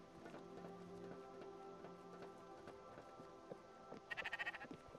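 Short, faint, rhythmic bleating of a sheep in Spiritfarer comes near the end as a quick series of pulses, over soft ambient game music.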